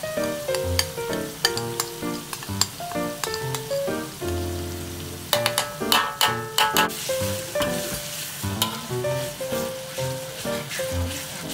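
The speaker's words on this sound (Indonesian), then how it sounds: "Pastikan kita punya rempah kari ni betul-betul masak supaya tidak rasa pahit" Adabi fish curry powder and spices sizzle in hot oil for a fish head curry, with steady frying crackle and repeated stirring scrapes and clinks close by, loud and continuous with no talk.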